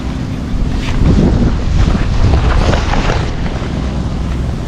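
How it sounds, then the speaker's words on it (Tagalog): Strong wind roars and buffets loudly across the microphone in steady, heavy gusts, swelling and easing without a break. "Kaso napakahangin na po."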